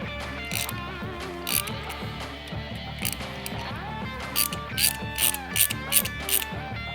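A ratchet clicks out bolts from the oil pump plate on a Milwaukee 8 Harley-Davidson Touring bike during cam replacement, with bursts of rapid close pawl clicking that speed up toward the end, no talking.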